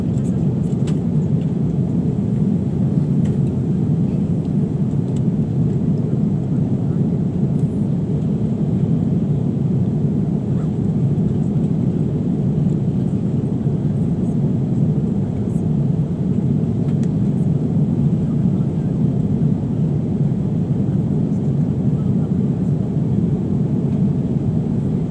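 An airliner descending to land at Melbourne's Tullamarine International Airport, heard from inside the cabin as a constant, loud low rumble of engine and airflow noise with no breaks.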